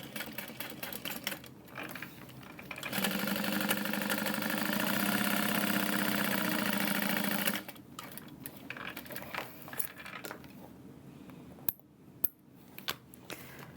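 A sewing machine stitching a handle onto a tote bag runs in one continuous, close whir for about five seconds, framed by quieter handling clicks and rustles before and after.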